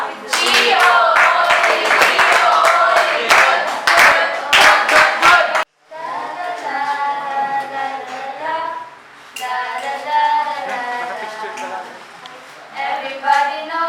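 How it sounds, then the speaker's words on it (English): An audience at a school science presentation claps for the presenters in sharp, uneven bursts over lively chatter, then the clapping stops and voices carry on, half singing. "So everybody, good clap."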